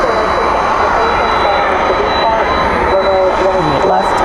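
A jet airliner powers up for takeoff at night at Dallas/Fort Worth airport, a loud, steady engine roar that fills the whole stretch, with voices talking over it.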